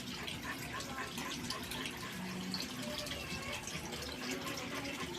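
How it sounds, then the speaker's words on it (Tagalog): Strong water from a spring that has surfaced in front of a house rushes and gurgles in a steady, close, continuous flow. "Sobrang lakas na ng tubig."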